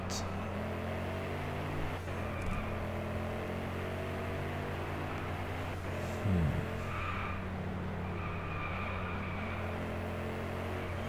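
A car drifting through a corner in the racing game Driveclub, its engine droning steadily with a brief tyre squeal partway through, heard alone at a constant level.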